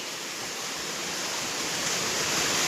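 Water pours steadily at Dharapalli falls, a dense continuous roar close by with no voices, holding even throughout.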